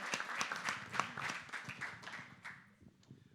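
Audience at a Mozambican poetry event breaks into a burst of lively hand clapping, dense and close at first, then thinning and fading out toward the end.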